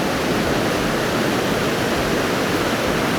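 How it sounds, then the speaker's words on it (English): Niagara River white-water rapids roar over big boulders, a loud, dense, unbroken rush of churning water filling the scene from start to finish. "here you can really feel the thunder of that water hitting these big boulders"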